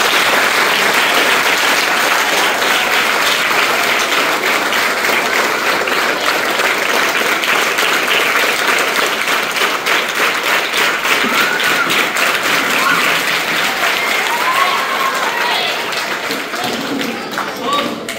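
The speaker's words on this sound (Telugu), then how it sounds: "అందరూ ఒకసారి క్లాప్స్ కొడితే బాగుంటుంది" An audience at a school welcome event claps together in sustained, dense applause that holds steady and loud throughout.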